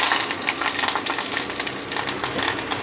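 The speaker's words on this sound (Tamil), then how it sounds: "இப்போ எண்ணெய் நல்லா சூடாயிட்டு பெருஞ்சீரகத்தை போட்டுக்கலாம் பெருஞ்சீரகம் உடனே கருவேப்பிலை போட்டுக்கலாம்" Fennel seeds and curry leaves crackle and sizzle in hot oil for a chicken gravy, a dense, continuous spitting hiss with rapid popping bursts, close and loud, with no talking.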